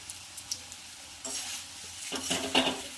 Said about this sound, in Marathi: त्यानंतर यामध्ये घालायचे आहेत पोहे आणि छान असे फ्राय करून घ्यायचे आहेत